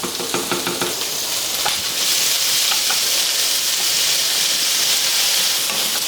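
Ginger garlic paste frying in a pan with onions and green chillies gives a steady, loud sizzle throughout, with a few stirring clatters near the start and no voices.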